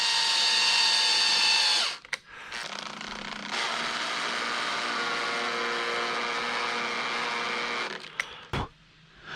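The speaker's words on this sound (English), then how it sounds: "Now I want to tap those holes." A power tool drives a tap to cut threads into drilled holes during an e-bagger motorcycle conversion, a loud steady whirring hum that drops in pitch, pauses, then runs again close up without talk.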